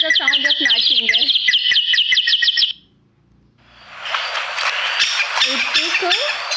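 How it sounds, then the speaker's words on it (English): Nightingale song of rapid, varied whistles and trills, with a short silent gap before a dense, bright passage of warbling resumes, clear and close. "See the sound of nightingale."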